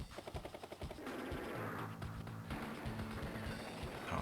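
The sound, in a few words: B-copter firing attack in Advance Wars video game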